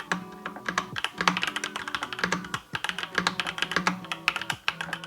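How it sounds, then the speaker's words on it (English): Typing on a Marvo wireless keyboard, a dense, fast run of crisp key clicks and thocks heard close and alone with no voices. "especially the sound when typing."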